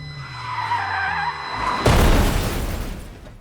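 Tires screech in a rising squeal, then a loud crashing burst of noise that trails off, with no one speaking.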